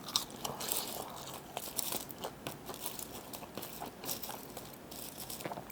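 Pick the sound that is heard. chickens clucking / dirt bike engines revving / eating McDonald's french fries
eating McDonald's french fries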